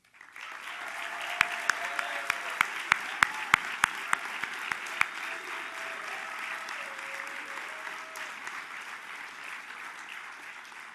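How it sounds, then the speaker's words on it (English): A crowd applauds steadily at an undergraduate award ceremony, with a few sharp, distinct claps standing out near the start before the applause settles into an even wash. "Let us hear a round of applause"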